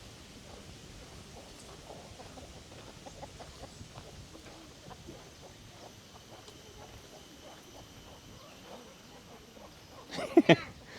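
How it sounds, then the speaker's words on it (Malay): Chickens cluck in a village in Teluk Dalam, Bintan, a faint scattered chorus of short calls at a distance, ending in a brief louder burst of squawking. "Wah ni banyak ayam dia ni."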